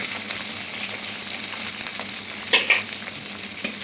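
Chopped garlic, chili and onion sizzle and fry in hot oil, with a couple of sharp stirring scrapes, steady and close.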